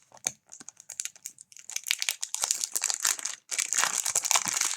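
Packaging of a Painting Fairy cross stitch kit being opened by hand, with close crinkling and tearing of plastic and paper in irregular bursts, pausing briefly before a denser stretch of rustling.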